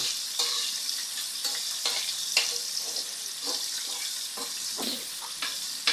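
Vegetables sautéing for ginisang gulay in a pan, a soft steady sizzle with scattered scraping and stirring clinks, no voices.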